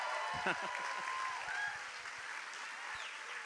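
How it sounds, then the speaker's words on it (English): An audience at an election audit gathering applauds as a speaker is called up, a steady, fairly distant wash of clapping with voices mixed in beneath it. "I can tell by that applause that they want to hear from you"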